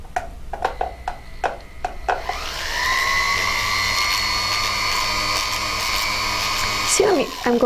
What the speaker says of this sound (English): I'm going to switch to the blue wheel next. This is less aggressive and will remove any marks that the gray wheel created